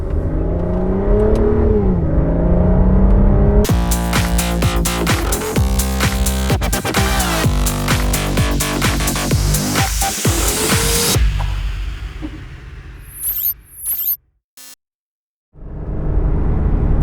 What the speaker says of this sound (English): My favorite thing about driving the DB9 has got to be the sound. The low, throaty gurgle.